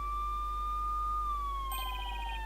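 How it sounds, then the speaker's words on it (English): Police car sirens sound outside in a video game: a steady electronic wail that slowly drifts down in pitch, joined near the end by a quick run of pulsing beeps, with no voices. "Mr. Wright, there are police cars outside. And not just one or two, but a whole bunch"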